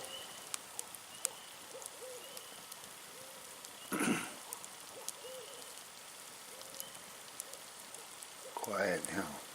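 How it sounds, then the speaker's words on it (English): A faint owl hoots a few times in a quiet night setting with light patters, and a person speaks softly twice. "You hear that owl?"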